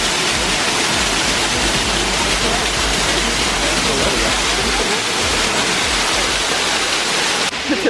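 A waterfall at Plitvice Lakes pours as a loud, continuous broadband rush heard close up, with faint crowd voices mixed in beneath it.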